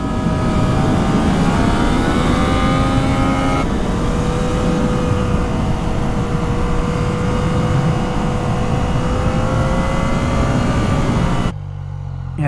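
A 2019 Yamaha MT-09 SP motorcycle engine pulls steadily under throttle with a loud, continuous drone whose pitch climbs slowly, heard up close with wind noise, before cutting to quieter running near the end.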